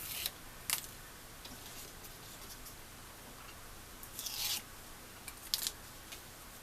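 Adhesive tape is peeled off a paper craft folio in a few short, crisp ripping bursts separated by quiet gaps, close and fairly soft.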